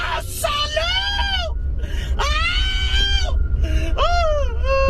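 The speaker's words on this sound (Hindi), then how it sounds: "गुल्ली बुल्ली देखते हैं कि अंदर से जो चिल्लाने की काफी ज्यादा आवाज आ रही है।" Loud, strained screaming and wailing from inside a house in an animated horror story, with several long, rising and falling cries in quick succession and brief pauses between them.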